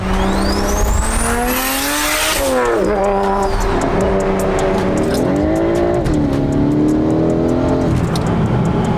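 A BMW F10 M5 launches hard with wheel spin, its engine note rising loud and close through the gears with a brief dip at each shift and a high tire squeal early on, steady roar throughout.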